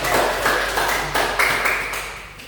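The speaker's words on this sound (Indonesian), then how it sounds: "Beri aplaus kepada teman-teman." Students in a classroom clap together in a steady rhythmic pattern, a string of sharp, loud bursts evenly spaced and close by, with no talking over them.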